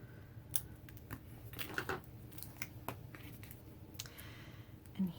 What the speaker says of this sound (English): I might have to snip just a tiny bit off